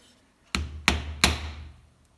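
Three sharp, close hammer taps ring out at an even pace while a part is tapped into place during an Opel Astra K 1.6 engine timing chain tensioner repair, with quiet gaps between blows.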